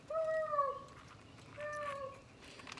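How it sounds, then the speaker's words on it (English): A cat gives two clear meows about a second apart, fairly close and moderately loud against a quiet room. "And that cat won't do anything."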